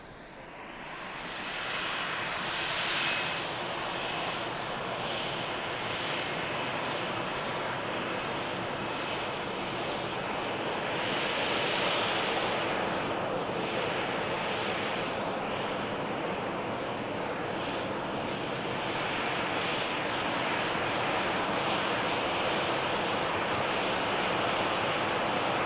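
An easyJet airliner bound for Amsterdam rumbles at Manchester Airport, a broad, steady jet roar that swells in the first seconds and holds at a constant level, with no one speaking.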